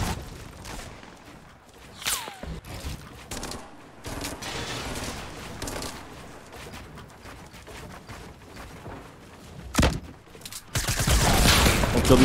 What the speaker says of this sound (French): On tire dessus, derrière.